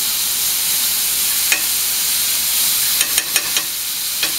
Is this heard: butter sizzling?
yes